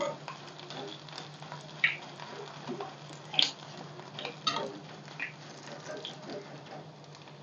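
Corn kernels frying in hot oil for tomato bajji, a steady low sizzle with scattered pops and crackles at close range and no voice over it.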